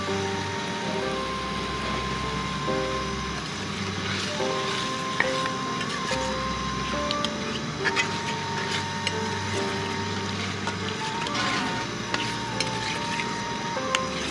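Fresh green chickpeas sizzle and crackle in a hot pan, a steady frying hiss close by with scattered ticks and faint stirring clatter.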